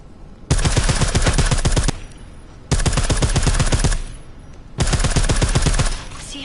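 Silenced gunfire in Deus Ex: Mankind Divided: three loud, sustained bursts of rapid automatic fire, each lasting about a second and a half, separated by short pauses and heard close up with no talking.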